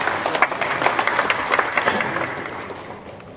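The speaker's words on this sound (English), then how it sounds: "Please give a round of applause" Audience at a university event applauding the keynote speaker, a burst of clapping from a crowd that is lively at first and then thins and fades out over a few seconds.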